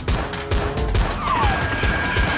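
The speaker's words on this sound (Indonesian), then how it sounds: "Mainan tembakan soft bullet gun." A rapid series of sharp pops, like a toy foam-dart gun firing several shots in quick succession over busy background noise.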